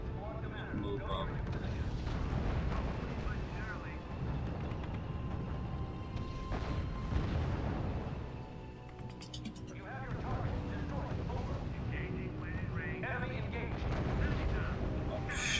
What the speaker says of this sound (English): Sir, the Field Artillery Battalion is opening fire.